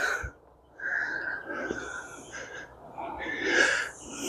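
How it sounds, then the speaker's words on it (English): A few breathy, snorting sneezes and sharp nasal exhales come close up outdoors during yard cleaning on a hot day, separated by short pauses, with a louder burst at the very end. "Man, I can't stop sneezing."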